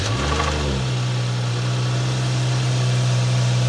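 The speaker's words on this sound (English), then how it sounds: "I'm just about to do the cold start" A BMW M135i with a damaged engine cold-starts: a short cranking burst flares up, then the engine settles into a steady, loud, close idle drone that runs alone to the end.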